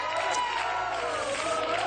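Studio audience on a French television singing game show applauds steadily, a dense wash of clapping and crowd noise holding at an even level throughout.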